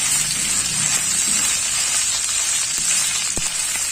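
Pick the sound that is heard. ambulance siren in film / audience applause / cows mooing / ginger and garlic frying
ginger and garlic frying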